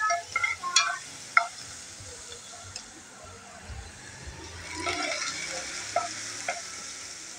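Coarsely crushed garlic, about a tablespoon, sizzles steadily in hot oil, with a continuous close crackle and several sharp spoon taps and stirring scrapes early on.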